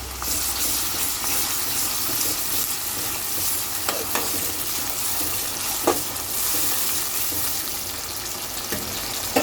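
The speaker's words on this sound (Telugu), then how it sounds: "ఇది వేయించేసుకోవాలి అల్లం పేస్ట్ వేసుకుందాం వేసుకొని కలిపిస్తుంది" Ginger paste sizzles in hot oil in a pan while being stirred, giving a steady bright crackle with occasional scraping clicks of a spoon against the pan.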